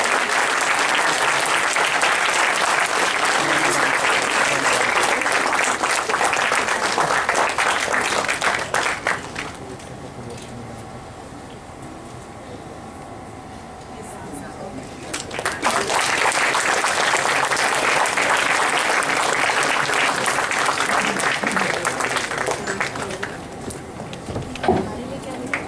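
At a university moot court competition, a large audience claps loudly and continuously, the applause dropping away to quiet murmur for several seconds before surging back just as strong.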